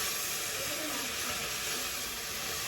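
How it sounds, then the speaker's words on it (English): Onions browning in olive oil in a saute pan give off a steady, dense sizzling hiss that stays constant and fairly close throughout, with no voices. "you're just gonna brown up the onions"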